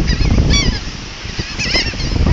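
Geese honk loudly and close by, two or three harsh honking calls spread through a rough outdoor background.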